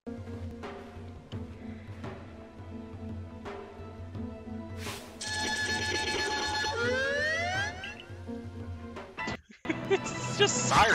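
A wailing electronic siren rises and falls over a low droning background in Pokémon Legends: Arceus, with game-like sound effects and a sudden burst of noise near the end.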